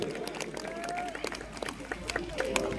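Audience clapping at a club stage event in Cooch Behar, scattered and fairly soft, mixed with crowd murmur and a voice speaking over it.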